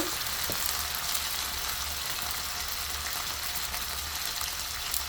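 Onions fry in oil with a little water added, giving a constant loud sizzling hiss throughout, alone and without talk.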